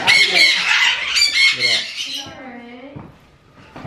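Parrots at a parrot rescue let out loud, close, harsh squawks and screeches in quick overlapping bursts, then a few lower calls as the flock quiets.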